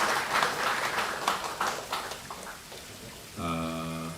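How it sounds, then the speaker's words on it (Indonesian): Crowd at a party event claps for a few seconds, the clapping fading out before a short musical tone enters near the end. "tepuk tangan buat beliau Bu Tira"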